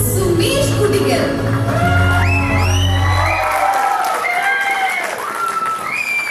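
A crowd at a music night applauds and cheers to welcome a keyboard player, loud dense clapping with whoops and shouts, fading toward the end.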